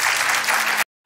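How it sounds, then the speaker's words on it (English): An audience at a church service applauds for a man, a steady, dense wash of clapping from many hands that holds evenly for under a second and then cuts off abruptly, with no talking over it. "Let's give a round of applause for Jim."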